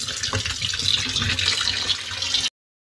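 Water runs steadily from a kitchen tap for about two and a half seconds while onion, tomato and capsicum are washed under it, a continuous hissing splash with no talking, then silence.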